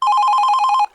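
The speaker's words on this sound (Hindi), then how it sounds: "ये किसका फोन है?" In a Minecraft horror story game, a phone rings with a loud, fast-trilling electronic bell in one continuous burst that stops abruptly.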